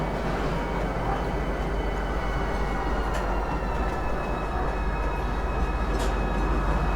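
A train in the Star Citizen video game arriving at Lorville station, a continuous rumbling roll of wheels and carriage noise, steady and fairly loud with faint hissing bursts.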